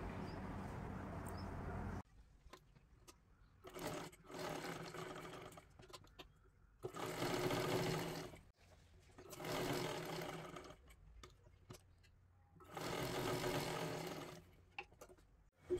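A sewing machine stitches the lining of a blouse sleeve in several separate runs, each a close, steady whirring burst a couple of seconds long with brief quiet pauses and light handling clicks between them.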